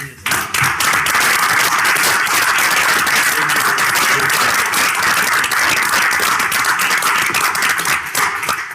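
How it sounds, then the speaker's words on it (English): Vigorous applause from members of a state legislative budget committee in a hearing room, loud, close and continuous clapping that starts abruptly and stays strong throughout, tapering only at the very end. "we all need to give him a round of applause"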